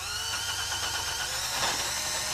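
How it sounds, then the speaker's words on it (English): A high-pitched whirring of a drill spinning an abrasive wheel against a 2006 Nissan Xterra's metal wheel hub, steady and close, with a gritty grinding hiss. "Get a little abrasive wheel on your drill."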